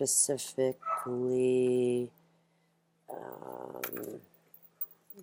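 Pet dogs give a few sharp close yips and barks, then a long whining whimper, followed by a person speaking briefly, with another short yelp near the end.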